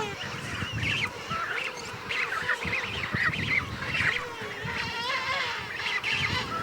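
Sub-Antarctic bird chicks in their brown woolly down call over and over in a noisy, honking chorus. The cries overlap continuously and stay loud and close for the whole stretch.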